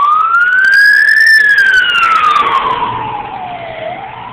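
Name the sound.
ambulance siren passing in St. Louis street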